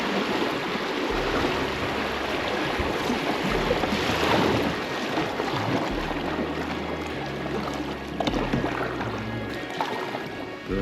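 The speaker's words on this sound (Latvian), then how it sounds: "Te baigās straumītas mums." River rapids rush past a kayak on a 22 km paddle from Ropaži to Silakrogs, a loud continuous broadband wash of churning water close by, with low thumps from the boat throughout.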